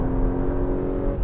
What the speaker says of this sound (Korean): 진짜 하드웨어가 만드는 엔진, 머플러, 이 사운드